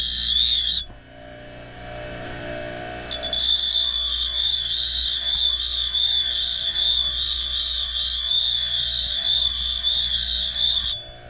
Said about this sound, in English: going to take the blade on my grinder and at a real steep angle, I'm going to go ahead and grind that to a point